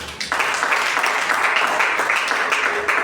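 A church congregation applauds together in a dense, steady burst of clapping that swells quickly and carries on for a few seconds, with a few voices mixed in.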